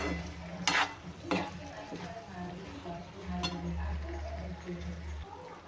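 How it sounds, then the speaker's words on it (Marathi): Beans and potatoes stir-fry in a pan, a soft continuous sizzle with stirring scrapes and a couple of sharper clinks, while a voice talks over the cooking. "बीन्स आलू, जे की मी स्वच्छ धुवून घेतलेले आहे. आणि हे छान मिक्स करून घ्यायचं."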